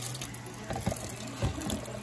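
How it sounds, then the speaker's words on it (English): Cold tap water runs into a bowl holding boiled eggs, a steady splashing stream with a few louder gurgles and knocks as it fills. "Run some cold water on it."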